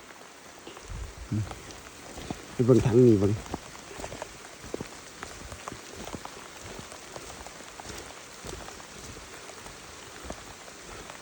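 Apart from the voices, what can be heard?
rain falling on a farm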